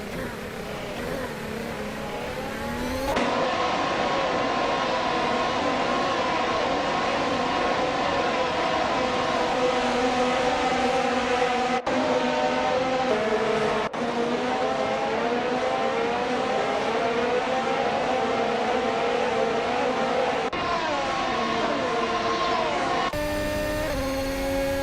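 A 2022 Ferrari F175 and other race cars in a racing game, with a continuous high engine whine and gliding pitch sweeps as they shift and rev, loud and unbroken for most of the clip.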